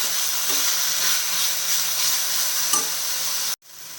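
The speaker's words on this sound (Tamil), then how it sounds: "இந்த புதினா இலை நல்லா வதங்கட்டும்" Mint leaves sautéing in a pan hiss and sizzle steadily up close, with a few soft stirring scrapes, before cutting off abruptly near the end.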